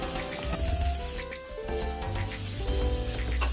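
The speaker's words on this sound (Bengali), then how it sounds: "হাই হিটে প্রায় 2 মিনিট সবজিগুলোকে নাড়াচাড়া করে ভেজে নিচ্ছি" Vegetables for chicken chowmein are stir-fried on high heat in a pan, giving a steady sizzle and stirring noise partly buried under loud background music.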